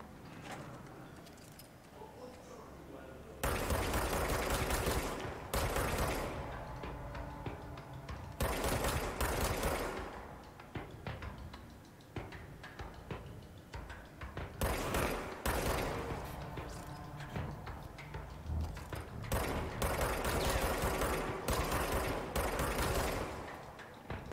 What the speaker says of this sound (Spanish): Pues mira que lo que hay ahora son disparos.